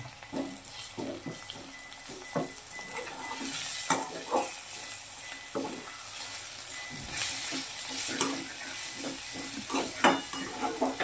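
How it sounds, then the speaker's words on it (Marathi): Spices frying and sizzling in a pan for egg bhurji, with steady sizzle under repeated stirring scrapes and clinks of a utensil against the pan, close and fairly loud, no talk. "नंतर आता मसाले टाकले. तर मसाले त्याच्यात तर थोडा वेळ आता तळू द्या."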